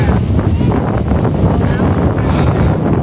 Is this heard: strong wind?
yes